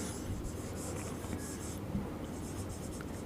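Steady scratchy rubbing of pen or chalk writing out a math derivative equation during a Class 12 lesson, continuous and close with faint background hiss.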